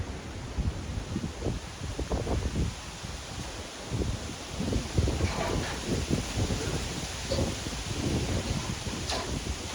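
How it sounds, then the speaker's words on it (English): Steady wind gusts buffet the microphone outdoors, a continuous rushing roar with occasional rustling and no voices. "It's a little bit windy out here today"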